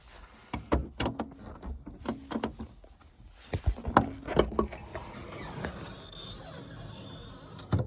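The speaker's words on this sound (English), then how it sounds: "You raise it and this little mechanism catches and props the trunk up" Trunk lid of a 1972 Triumph TR6 roadster being raised, a series of sharp metallic clicks and knocks as the prop mechanism catches, close and fairly quiet.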